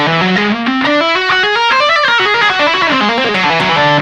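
An electric guitar plays a whole tone lick in a three-note-per-string shape shifted up across the strings, a fast run of distorted notes climbing in pitch, peaking, then descending and rising again, loud and alone.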